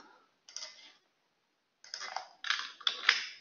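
Quiet keystrokes on a computer keyboard, a couple of short bursts of clicks separated by a silent pause, close and soft.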